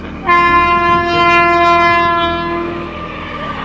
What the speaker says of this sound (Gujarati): ટ્રેન આવે છે મિત્રો